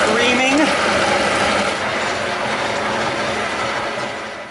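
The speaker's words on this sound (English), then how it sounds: "Our muscovado sugar, our softened butter. Butter and sugar, creaming." A stand mixer creaming softened butter with muscovado sugar, a dense continuous churning rumble with a rhythmic mechanical rattle, loud and close before easing slightly toward the end, with a voice briefly at the start.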